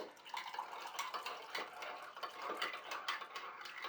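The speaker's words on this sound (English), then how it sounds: "you take hot water and pour it in" Hot water is poured into a cup of powder for a drink, giving a steady close-up splashing rush with faint ceramic clinks throughout, and no voices.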